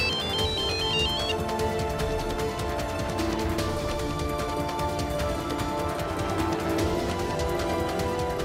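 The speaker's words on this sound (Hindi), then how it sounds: "प्लीज समीर, एक बार फोन उठाकर मुझसे बात कर लो।" A phone rings with a repeating electronic ringtone melody that loops steadily and clearly for several seconds, with no talking over it.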